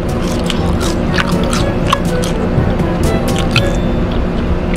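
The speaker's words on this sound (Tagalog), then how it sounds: "Nguya ko ata naririnig niyo." Close, crunchy chewing of long Japanese fries with irregular crisp crackles over a steady low background hum, no talking.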